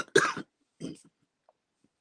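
A single harsh cough bursts out, then a quieter second cough follows, with near silence afterward.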